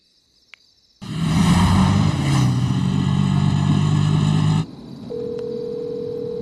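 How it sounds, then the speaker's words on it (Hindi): A phone rings late at night with a loud, sustained electronic ring lasting a few seconds. It cuts off abruptly and leaves a steady, faint tone, with no voices. "इतनी रात में किसका फोन आ रहा है?"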